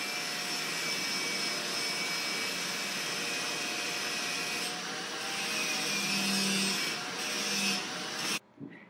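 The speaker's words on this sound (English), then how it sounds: "we used an angle grinder to clean up the edges and define the shape" An angle grinder cleans up the edges of a forged knife blade, giving a steady, loud, close whine that runs almost unbroken before cutting off abruptly near the end.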